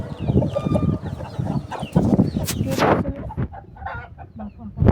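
Roosters crow loudly and close by, several calls overlapping amid steady clucking from the flock, with a voice talking intermittently among them.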